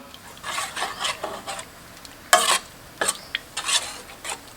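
Glass noodle tom yum with canned fish stirred in a pot, soft scraping swishes in short irregular strokes with a few sharper clinks of utensil against the pot, close and moderately loud, no voices.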